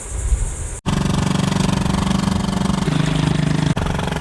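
Small outboard motor on a sailing couple's dinghy running steadily, a close, even buzzing drone with a quick dropout near the start and another brief dip near the end.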